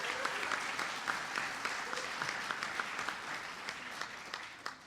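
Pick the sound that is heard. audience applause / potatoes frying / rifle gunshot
audience applause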